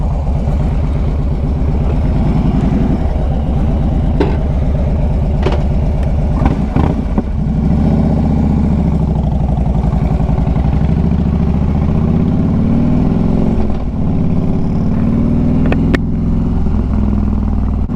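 A Harley-Davidson Street Glide motorcycle rumbles steadily while being ridden on a road in Ohio, its low engine drone continuous and loud with occasional clattering bumps and shifts, no talking.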